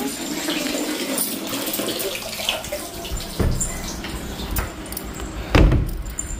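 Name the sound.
water running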